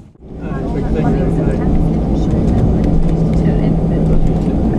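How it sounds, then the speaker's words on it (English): An EasyJet aircraft sits on the ground during de-icing, heard from inside the cabin as a loud, steady low engine and airflow rumble that holds constant, with a voice talking over it. "This is probably going to take about 10 minutes or so for them to de-ice the aircraft"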